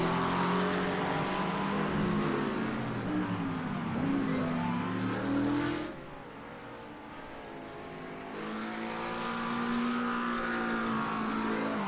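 A Mercedes GT3 race car engine roars at Virginia International Raceway, a sustained high-pitched howl that rises and falls with gear changes, dipping briefly in the middle before climbing again, loud and continuous.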